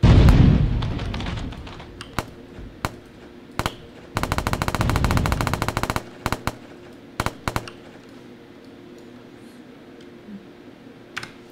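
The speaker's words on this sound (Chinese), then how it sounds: "这个就是射出去的子弹啊" Automatic gunfire from a weapon in an Unreal Engine Chaos physics demo: a dense rapid burst of shots in the middle, with scattered single shots before and after, loud against a quiet background.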